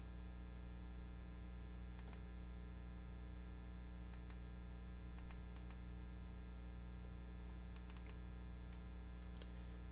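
A Nitenmen NE01 Cree flashlight's tail switch clicks through its modes, sharp faint clicks singly and in quick pairs over a steady electrical hum.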